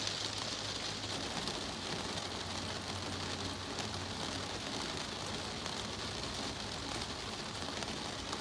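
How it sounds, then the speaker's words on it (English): Steady rain falls outdoors in Kent during spring seed sowing, a continuous even hiss of drops on surfaces with no talking over it. "Oh, can you hear that rain?"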